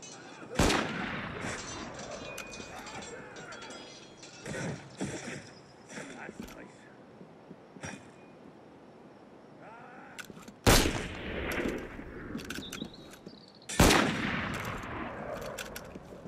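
Sharp gunshot bursts from Assassin's Creed Unity ring out at about 1, 11 and 14 seconds, loud against a busy game backdrop, with smaller shots and clatter in between and people talking throughout.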